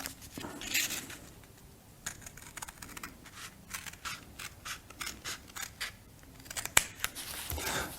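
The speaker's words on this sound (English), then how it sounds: "when you're cutting this with scissors, you want to aim to go down the middle of those score lines" Scissors snip through flat-pack card along score lines in a steady series of close, crisp cuts with short rustling pauses between strokes, one sharper click near the end.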